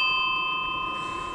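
A bicycle bell gives a single bright ring that hangs and slowly fades, close and clear, with no talking over it.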